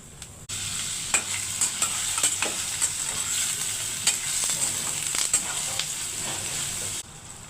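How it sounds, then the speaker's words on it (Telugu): Paneer sizzles in hot oil, a bright, continuous frying hiss broken by sharp clicks and scrapes of a spatula, starting suddenly and cutting off near the end. "మొదట పన్నీర్ వేయించుకోవాలి."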